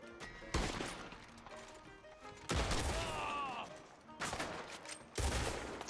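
Gunshots from the video game Red Dead Online in a Blackwater saloon setting: three loud broadband blasts with ringing tails fall about every second and a half, between quieter in-game noise.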